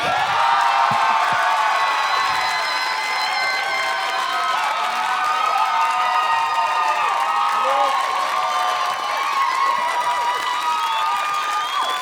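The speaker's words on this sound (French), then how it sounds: "Mesdames et messieurs, accueillez comme il se doit Philippe Audrey Larue Saint-Jacques" A live comedy-show audience in Laval cheers, whoops and applauds a guest's entrance, a loud dense crowd roar with shouts rising over it throughout.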